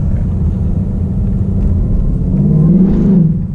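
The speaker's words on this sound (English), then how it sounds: "I was just testing the throttle, just making sure." A supercharged 2018 Ford Mustang with a Stage 2 Whipple blower and 10R80 transmission idles loud and close with a deep steady rumble, then gives a brief throttle blip that rises in pitch near the end, with no talk.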